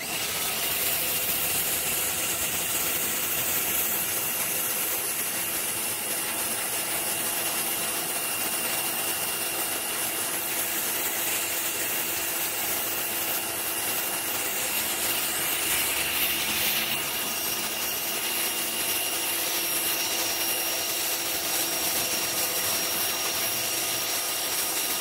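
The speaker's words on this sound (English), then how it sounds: "even though this is an electric power wash" An electric power washer sprays a driveway in a steady, loud hissing roar with a constant motor drone, unbroken for the whole stretch and close to the source.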